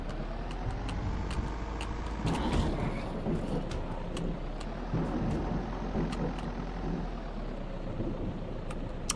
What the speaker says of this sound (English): I think the engine noise is attracting them.